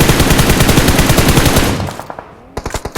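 Rapid automatic gunfire in a shooter video game, a loud close burst of fast shots that tails off, followed by a few separate sharp single shots.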